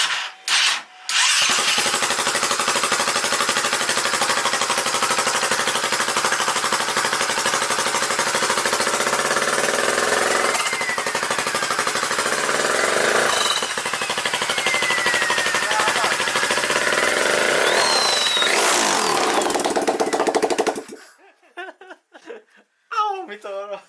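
A loud, harsh mechanical roar with rapid rattling from the turbocharger of a Husaberg FS570 motorcycle engine on a test rig, running continuously for about twenty seconds before cutting out abruptly.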